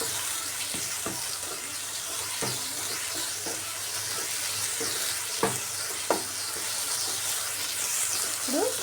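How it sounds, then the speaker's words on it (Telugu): Carrots stirred and frying in a pan give a dense, continuous sizzle, with occasional spoon taps and scrapes cutting through; close and steady, no speech. "బాగా మిక్స్ చేసుకొని ఒక రెండు మూడు నిమిషాలు బాగా మగ్గనిద్దామండి క్యారెట్ ఉడికిపోతుంది తొందరగానే"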